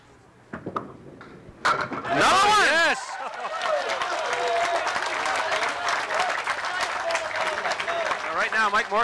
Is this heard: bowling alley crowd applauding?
yes